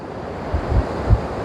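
Strong Pacific Ocean waves roll onto a black sand beach, a low rushing surf with two heavier surges breaking close by under gusty wind buffeting the microphone.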